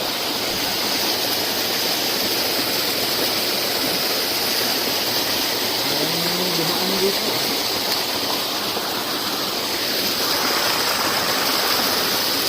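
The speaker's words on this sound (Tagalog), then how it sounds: "Maliit na sapa lang ito" A small stream's water rushes in a steady, dense wash of noise, close and loud throughout with no clear voices.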